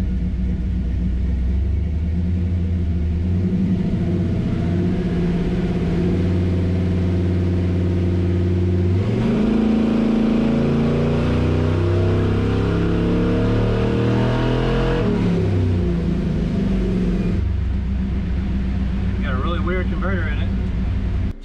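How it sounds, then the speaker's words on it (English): A car engine with a Holley Terminator X ECU roaring steadily on a dyno, then climbing hard through the revs at full throttle before dropping back, loud and close throughout. "let's make another full throttle run"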